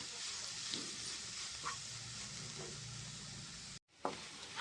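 Spices and masala fry in a pan for egg fried rice, giving a soft continuous sizzle with faint stirring knocks, then a brief cut to silence before the sizzle returns with a scrape; no one speaks.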